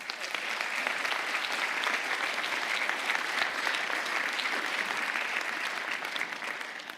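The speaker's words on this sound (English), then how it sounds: "Another round of applause for Walter and for Yuri for sharing these inspiring stories today." A crowd applauds at a community award ceremony, a continuous even roar of many hands clapping that holds steady for several seconds at moderate loudness before easing slightly at the end.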